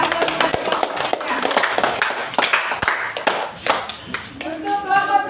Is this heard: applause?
yes